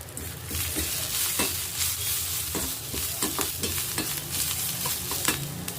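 Curry leaves fry with softened onions in a pan for a bitter gourd onion fry, sizzling continuously while a spoon stirs and scrapes with irregular clinks, close and alone.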